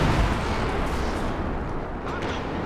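A Priest self-propelled gun fires artillery during a Company of Heroes 2 match, heard as a heavy, broadband rumbling blast that stays dense and sustained with a thick low end, fairly loud, with faint voices mixed underneath.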